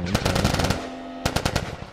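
Rapid automatic gunfire in a zombie video game, two loud bursts of quick shots separated by a short pause.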